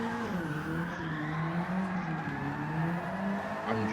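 Engine drone of a car drifting on stock tyres in Gran Turismo 7, played with a steering wheel, with a sustained steady tone that shifts slightly in pitch, continuous and loud throughout without talk.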